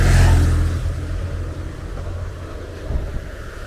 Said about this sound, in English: There's the cars there